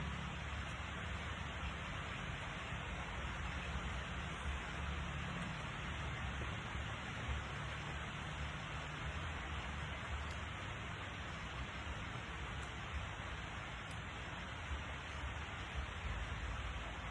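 Rain falls steadily for the whole stretch, a constant even hiss with no voices.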